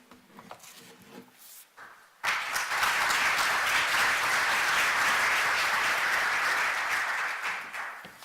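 After a few seconds of quiet room murmur, a conference audience bursts into applause all at once, a dense, sustained clapping for about five seconds before it starts to thin out.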